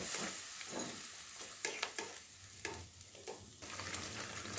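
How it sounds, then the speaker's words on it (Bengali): Chana dal masala sautéing in oil in a pan, a faint continuous sizzle broken by repeated stirring scrapes at an uneven rhythm, quiet and close, with nobody talking. "একটু এটা ভালো করে কষিয়ে নেব। যতক্ষণ তেল ছাড়ছে না ততক্ষণ, এটা থেকে যতক্ষণ তেল ছাড়বে না ততক্ষণ কষাবো।"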